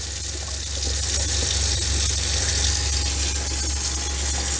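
Water draining from a cargo trailer camper's tank through newly installed plumbing, a steady rushing flow with a low pump-like hum underneath, running without pause.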